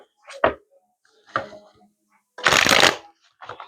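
Tarot cards shuffled by hand in several separate bursts, a brief riffle, a short one, then a longer, louder full riffle near the end, close up with no talk.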